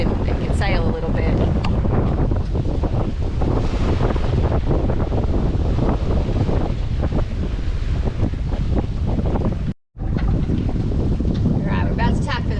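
A sailboat under sail in light wind departing Puerto Madero, with heavy wind buffeting the microphone and water rushing along the hull continuously, loud and close, and a brief dropout near the end.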